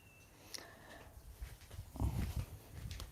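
A dog at home gives faint, short whimpers and snuffling noises, soft and close in a quiet room.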